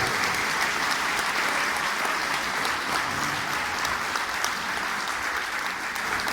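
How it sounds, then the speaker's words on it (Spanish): Sustained audience applause at a celebration of the 50th anniversary of ADES, a dense, steady wash of many hands clapping at moderate distance. "solicitar a ustedes un gran aplauso por estos 50 años de existencia de esta gloriosa ADES"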